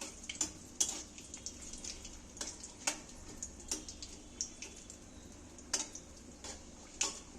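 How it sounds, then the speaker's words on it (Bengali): Black mustard seeds, a bay leaf and a whole dried chili frying in hot oil, with a soft steady sizzle under sharp intermittent pops and crackles of seeds bursting, close and alone. "দুটো কালো সর্ষে একটা তেজপাতা একটা গোটা শুকনো লঙ্কা এইগুলোকে আমি একটু ভালো করে ভেজে নেব"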